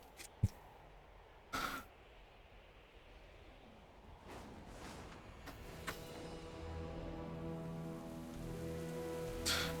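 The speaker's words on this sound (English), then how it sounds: "It's raining." In World of Warcraft: Dragonflight, rain hisses softly and steadily on surfaces, quiet and continuous with a few scattered clicks, the patter thickening slightly toward the end.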